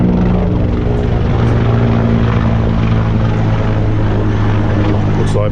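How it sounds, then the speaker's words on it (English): A helicopter overhead makes a loud, steady rotor and engine roar that fills the whole stretch without letting up. "It's just a helicopter."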